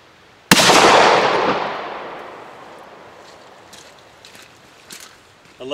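A single loud, sharp gunshot from a test round fired through a GBW Cartridge Legend Pro, ringing out in a long decaying echo, followed by a few faint knocks and rustles.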